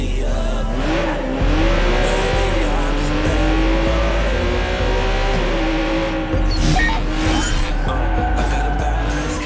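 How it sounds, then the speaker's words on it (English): Car in the video game Watch Dogs 2 driving steadily, a continuous engine drone with shifting pitch and occasional tire noise, loud and up close throughout with no talking. "Let's park our car past the scissor lift and go scout the place on foot."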